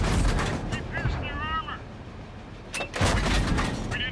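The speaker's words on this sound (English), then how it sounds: "I better aim these shots carefully" Tank cannon shots in a World War II tank game, with a Pz.Kpfw. III Ausf. K firing on a T-34-85M: two heavy booming blasts, one at the start and another near the end, with a brief metallic ringing between them.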